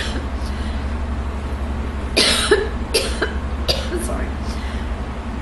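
A person coughs several times in a short burst of harsh, close coughs, with a room hum underneath.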